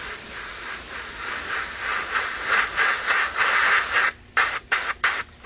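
A light coat of black spray paint goes onto a Proline RC car body, a close, loud continuous aerosol hiss that ends in several short, sharp bursts.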